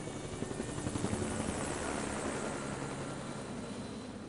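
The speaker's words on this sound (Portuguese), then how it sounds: "chegando no helicóptero" A helicopter in the tactical shooter SWAT 4 arrives with a dense, continuous rotor whir and engine roar that holds steady throughout, with no talk.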